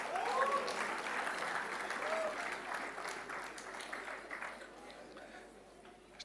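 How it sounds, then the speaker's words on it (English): Students at a BBA convocation ceremony applaud continuously as graduates' names are read, a dense, steady crowd clapping that fades slightly toward the end, with a voice speaking over it. "you can keep clapping for your other fellow mates"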